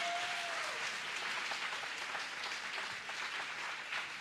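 A church congregation applauds in a dense, continuous patter of clapping that fills the room evenly and fades slightly toward the end, heard fairly faintly.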